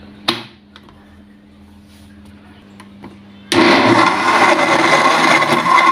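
A kitchen blender grinding chopped muskmelon into chilled juice starts abruptly partway through, a loud steady whir that runs to the end after a few faint clicks and handling noises.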